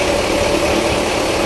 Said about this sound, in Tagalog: So naandar naman yung aming makina